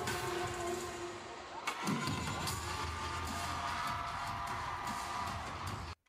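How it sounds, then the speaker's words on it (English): A large audience cheers and screams continuously at a K-pop live performance at KCon LA 2023, a dense, loud roar of the crowd sustained throughout with a brief bang near the start. "And the crowd loves it."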